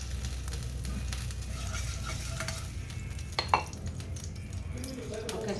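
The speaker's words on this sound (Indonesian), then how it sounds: "sekarang kita nyalakan kompornya" Cooking oil heats in a pan on a stove, giving a low steady sizzle with a couple of sharp metallic clinks from the pan or utensils.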